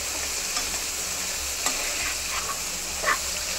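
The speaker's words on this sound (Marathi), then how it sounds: "तर आता आपला हा पास्ता जो आहे तो ॲड करायचा आहे याच्यामध्ये आणि आपल्याला चांगला मिक्स" Pasta being mixed into a white sauce in a pan, with a continuous soft sizzle and occasional spoon scrapes and light clinks, no voices.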